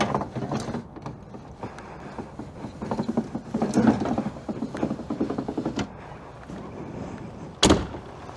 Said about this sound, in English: Cool. Old-fashioned crank window.